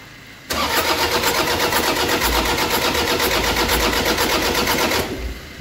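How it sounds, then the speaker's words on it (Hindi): A Toyota Innova engine running after an overhaul for a seized piston, a steady loud rattling idle that starts abruptly and holds evenly before cutting off near the end. "बहुत ज़्यादा इसका इंजन हिलता है"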